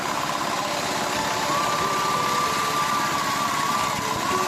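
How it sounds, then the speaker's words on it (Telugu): A small engine runs steadily nearby, a constant droning hum with a thin high whine rising slightly midway, no talking. "ఇంక ఇంజన్ బీటింగ్ అయితే వినిపించేస్తా వినన్న మావా."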